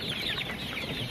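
Rooster chickens clucking while eating grated raw cassava feed, a dense continuous chorus of close, busy clucks from several birds.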